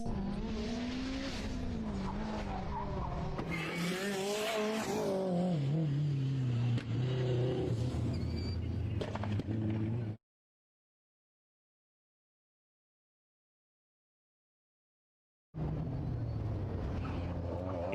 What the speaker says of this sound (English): That car rockets from A to B